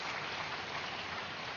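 Steady broadband applause from an audience after a meditation session at a large meditation summit in India, a dense uninterrupted patter of many hands at an even level with no voices.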